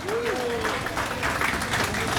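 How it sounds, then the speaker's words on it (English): Brief, soft applause rises from an audience at an outdoor festival stage during a Rathayatra celebration, greeting young performers from a Bhakti school, with a voice briefly heard over the muted clapping. "please give a thunderous round of applause to the youngsters from the Murari Bhakti School."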